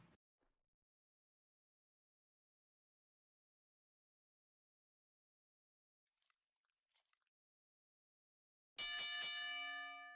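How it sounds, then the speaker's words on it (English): Ringside bell at a wrestling match rings out suddenly with a bright, metallic ringing burst near the end, preceded by long near-silence with a few faint ticks and scuffs. "There's the bell."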